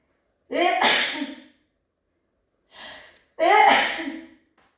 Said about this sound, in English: I always sneeze in twos.